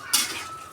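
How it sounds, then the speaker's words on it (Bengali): A single metal spoon scrapes and clinks once against a pan of taro and pangas fish being stir-fried, a quick bright scrape that trails off into a soft low sizzle. "তো এখন কিছুক্ষণ ধরে কষিয়ে নেব কচুটা।"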